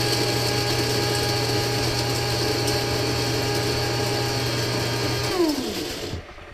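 A coffee grinder grinds coffee beans to a coarse setting, a loud steady whirring drone with a rattling mechanical edge that runs evenly for about five seconds, then winds down and stops.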